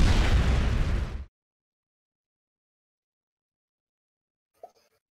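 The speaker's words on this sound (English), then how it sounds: "Like, whoops, huge explosion." A huge explosion in the strategy video game Risk Global Domination roars loud and broad for just over a second and then cuts to silence. A tiny faint blip follows near the end.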